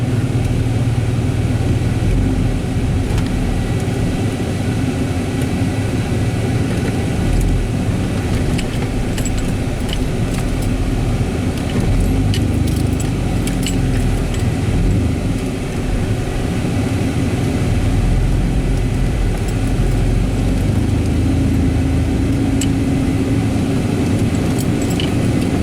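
A 1999 Dodge Dakota truck on a test drive around a yard, a steady loud cabin rumble of engine and road noise with faint rattling and jangling throughout.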